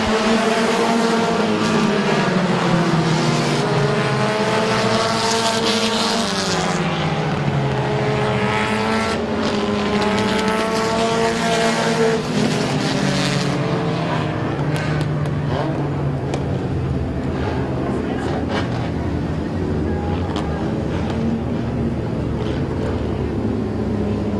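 Race cars roaring around the Midvale Speedway oval, a loud continuous engine drone with rising and falling pitch sweeps as cars pass through the turns, mixed with crowd and announcer ambience.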